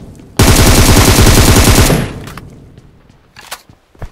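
A PUBG Mobile gun fires a rapid, loud automatic burst lasting about a second and a half, then stops abruptly, leaving a few scattered faint clicks and taps.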